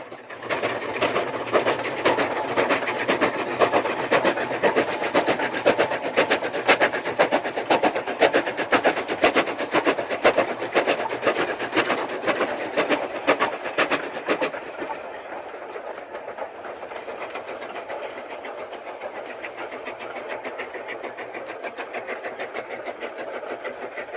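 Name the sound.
Super D 49395 train climbing on railway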